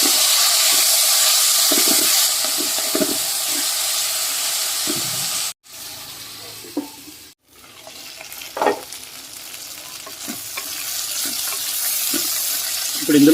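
Veldt grape stalks cooking in a pan for a tangy pulusu sizzle loudly and hiss steadily. The frying is broken by brief stirring and clattering, with a couple of short pauses, and settles into a quieter, continuous sizzle close to the mic.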